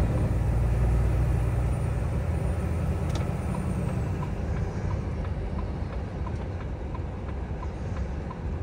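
A vehicle pulls away after a gear shift, a low steady engine rumble with broadband road noise that eases slightly over several seconds, close and continuous, no voices.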